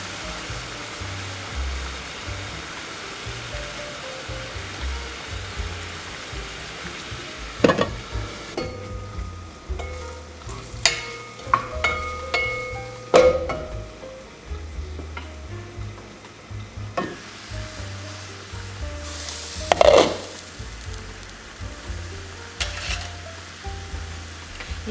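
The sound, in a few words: longanisa sausages frying and sizzling in a pan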